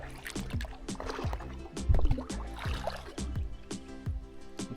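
Paddle strokes dip and pull through the water of the Suwannee River in a steady rhythm of roughly one stroke per half second, close and clear, with soft splashes and gurgles between them.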